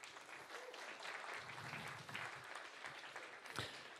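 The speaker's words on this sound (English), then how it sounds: "a big applause to you" A seated crowd at a free-software tech meetup gives a round of applause, fairly faint and distant, a continuous wash of clapping with a few sharper claps near the end.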